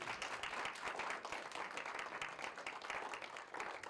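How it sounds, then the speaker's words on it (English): Audience applause at a literary journal reading for its readers and writers: dense, steady clapping from a room of people, sustained at an even, fairly loud level for the whole stretch with no voices over it. "let's give our readers and our writers one more round of applause before we go"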